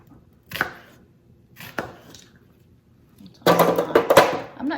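Chicken being chopped into chunks with a knife on a cutting board, a few isolated sharp thunks followed by a quick cluster of rapid, louder chops, close and clear with no talk.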